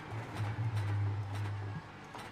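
A BMW GT3 race car engine at Bathurst in the iRacing sim, a sustained low droning engine note that holds steady and then drops off with a short shift blip, heard in the cabin without talking.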